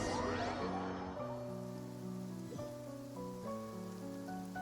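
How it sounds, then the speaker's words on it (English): Soft, quiet rainfall patters in the Genshin Impact video game, a faint steady wash under sustained gentle musical tones. "And it's raining now."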